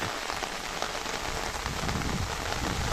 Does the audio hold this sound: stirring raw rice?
no